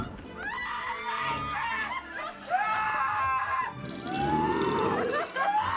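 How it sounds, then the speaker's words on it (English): Several shrill, wavering screams rise and fall in overlapping bursts, loud and close, with brief pauses between them. "The screams of Krampus's victims."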